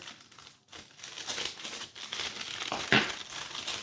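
A plastic bag wrapped around a boxed Mercedes-Benz S65 AMG W220 model car by OTTOmobile is cut and crinkled open up close, giving scattered rustling and crackling with a sharper snip near the end.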